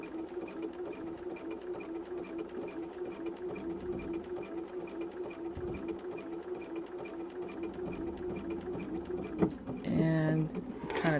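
A sewing machine runs a fast, steady stitch while hemming fabric with a hemmer foot. The needle keeps up an even mechanical chatter and gives a brief chunkier clatter near the end. Someone speaks quietly over it.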